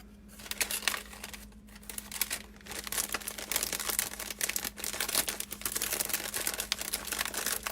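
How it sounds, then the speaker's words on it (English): A cellophane bag is opened and handled up close, giving continuous crinkling and crackling with rapid irregular bursts throughout, moderately loud, with no talk. "And I'm going to open up my cello bag here."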